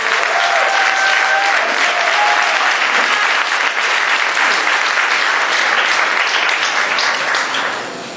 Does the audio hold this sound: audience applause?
yes